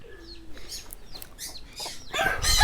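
Hens cluck and chatter close by among other birds on a farm, a busy run of short overlapping calls that grows louder toward the end.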